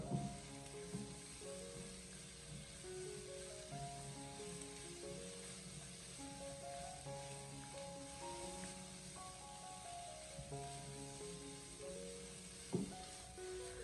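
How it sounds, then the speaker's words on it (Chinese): Onions stir-fried over high heat with minced garlic in a wok give a steady sizzle that runs through the whole stretch, beneath a melodic background music track, with one sharp clatter near the end. "将洋葱放进来，然后再立刻的将火候调为大火，将它快速的翻炒一下，将其翻炒均匀，把洋葱给它翻炒出香味"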